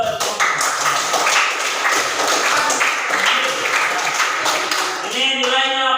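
Students in a junior high school (SMPN 5 Buton) gathering clap together in a dense, steady burst of applause for about five seconds, fading as a voice starts speaking at the end.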